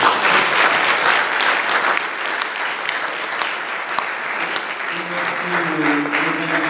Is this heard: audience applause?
yes